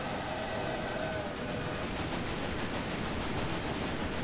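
Trains run in a railway management game, heard as a dense, even rumble of rolling rail noise with a faint tonal whine early on, continuous and fairly loud, with no voices.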